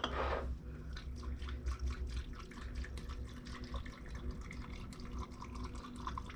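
Home-canned broth poured into canning jars, a steady liquid trickle with small drips and splashes running continuously throughout, close and fairly quiet, with no voices.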